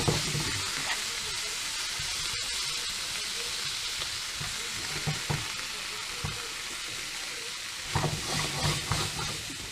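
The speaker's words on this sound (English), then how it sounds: "In with the veg. Cook them off nice and slowly, not too much of a rush with them." Vegetables for peppered steak fry slowly in a pan, a soft, steady sizzle and hiss with occasional stirring clatters, quiet and close with no one speaking.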